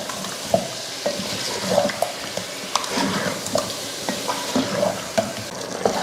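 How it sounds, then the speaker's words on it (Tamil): Yogurt frying and being stirred into a masala in a pan, soft sizzling under repeated scraping and clacking strokes of a spoon against the pan, close and fairly loud with irregular rhythm. "தயிர் சேர்த்துட்டு அதையும் வதக்கிடலாம்"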